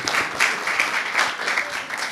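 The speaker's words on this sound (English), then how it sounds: "Let's clap for everyone" Audience clapping at a school round-table discussion, a steady patter of many hands that swells in short bursts across the whole stretch, moderately loud and fairly close, with no voices over it.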